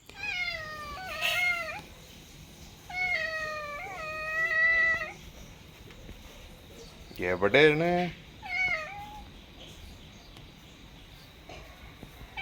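A male jungle cat gives several drawn-out meows, loud and close, with a brief low growling burst in between, and a person speaks one short question.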